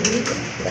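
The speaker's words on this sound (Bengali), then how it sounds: "মিলিবার কালার ভিতরে বিগ সাইজের একটা বড় পায়রা নর কবুতর" A big male pigeon of milibar colour coos once, close and fairly loud, a short low throaty call heard on its own.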